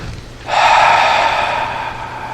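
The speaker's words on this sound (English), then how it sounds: "let's take a breath" A group at a Mother's Day gathering draws in one deep breath together, a sudden airy swell that starts after a short pause and holds steady, close and fairly loud, with no talking.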